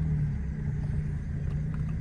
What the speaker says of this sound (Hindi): भाई ये देखो आज अपनी गाड़ी की पूरी पूरी ऑफ रोडिंग हो रही है